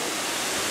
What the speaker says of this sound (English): I'm at the stage 3 part of the Kintampo massive waterfall drop